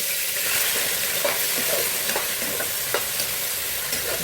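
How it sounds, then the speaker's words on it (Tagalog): Shrimp and squid fry together in hot oil for pancit palabok, giving a steady close sizzle with a few soft pops and faint utensil taps, and no voices. "Ipiprito ko naman tong hipon at pusit."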